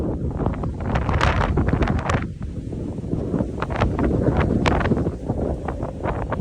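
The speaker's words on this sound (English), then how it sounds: "These winds are insane." Strong gusting wind blasting across an exposed outdoor hiking trail on the Pacific Crest Trail, with loud, continuous roaring buffets battering the microphone, close and unbroken for several seconds, with no voices.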